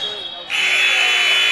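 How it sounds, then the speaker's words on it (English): A loud, sustained electronic game-clock buzzer blares at a women's college basketball game against FDU-Florham, starting partway through and holding steady over crowd noise and arena chatter. "That was before the buzzer."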